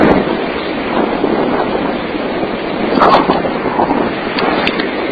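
Strong Gulf Coast wind during Tropical Storm Lee buffets the microphone as a dense, roaring rush, with surf and waves mixed into a constant loud bluster. No voices are heard.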